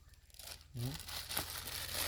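A packet of Maggi instant noodles is torn open outdoors with a short crinkling rip of plastic wrapper, close and crisp, while people talk nearby.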